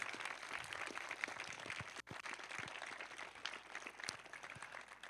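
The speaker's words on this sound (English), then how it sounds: "we should give them a round of applause." Applause from a concert audience for the behind-the-scenes crew at a May concert, a steady spread of clapping with a brief dip near the middle, moderately loud and fairly distant.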